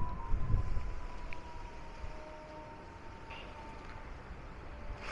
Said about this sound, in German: Ich höre schon wieder die Sirene.